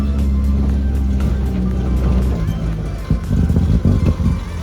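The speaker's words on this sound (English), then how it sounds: "We've got a lot more valve noise." An LS-swapped Mazda Miata engine with noisy valvetrain, heard from inside the car as a steady loud drone with ticking clatter, then a rougher, pulsing idle near the end.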